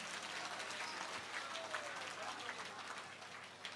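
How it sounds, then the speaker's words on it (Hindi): A large crowd at a Hindu temple consecration festival applauds in a steady, broad wash of clapping that sounds fairly distant and sustained throughout. "एक बार हमारे आदित्य जी को जोरदार ताली बजा के धन्यवाद दो।"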